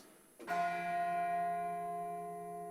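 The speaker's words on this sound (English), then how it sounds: "One of my favorites is this bell tower kind of sound." A single deep bell strike from a music software sample rings out, its rich tolling tone sustaining and slowly fading like a tower bell.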